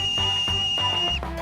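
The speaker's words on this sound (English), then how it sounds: "a camping kettle whistle" A camping kettle whistle blows a shrill, steady high tone, held for over a second and then cut off, with a few dull knocks underneath.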